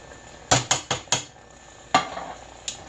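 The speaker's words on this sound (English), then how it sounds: "And then you just stir it." A spoon works through a tuna noodle casserole mixture thinned with milk, with a quick run of four clinking scrapes against the bowl, then two more isolated knocks.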